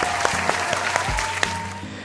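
An audience applauds to welcome a speaker at a morning talk session, a steady spread of clapping with a few sharper claps standing out, sustained at moderate level throughout.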